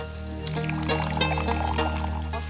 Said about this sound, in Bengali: আমি হালকা একটু পানি দিমু